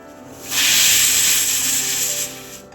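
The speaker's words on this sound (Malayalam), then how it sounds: "അടപ്പിൻ്റെ നോബിലൂടെ ആവി വരുമ്പോൾ നമുക്ക് വെയിറ്റ് ഇട്ട് കൊടുക്കണം" Steam hisses loudly and steadily from a pressure cooker on an induction cooker, a broad rushing jet that swells in after a softer start and holds for about two seconds before easing off.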